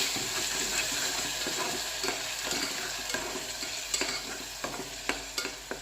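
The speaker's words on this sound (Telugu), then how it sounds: "సో ఇది కూడా కొంచెం వేగనిద్దాము." Steady sizzling of ground raw masala frying in a pan for mutton curry, with repeated scraping and stirring clicks from a utensil, close by and without any talking.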